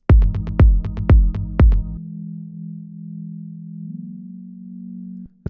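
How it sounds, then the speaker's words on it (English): A sustained, pure low sine-wave synth tone holds steady for several seconds after a quick burst of sharp plucked hits, then cuts off abruptly, in an Afro house track made in Serum. "sine wave"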